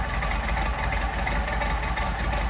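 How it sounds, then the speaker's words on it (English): A Mercedes 190SL engine with Solex carburetors idling during carburetor balancing, a steady, close, loud mechanical rumble with an even low pulse and no voices. "you'll be able to hear the difference in the engine as it loses idle as we screw them in and out."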